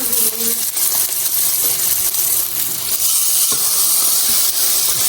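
Two steaks sear in a hot pan, giving a loud, steady hiss and sizzle up close with a few small clinks, and no talking.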